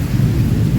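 Steady rain with a low rumble of thunder during a hot-weather downpour, a continuous heavy wash of sound filling the whole short moment with no voices.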